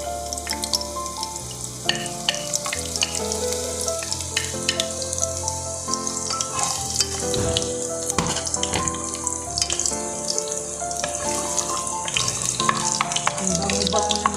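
Garlic sautés in a pan for ginataang kalabasa with malunggay. A constant sizzling hiss with scattered crackles and pops runs the whole time, mixed with a steady tonal backdrop.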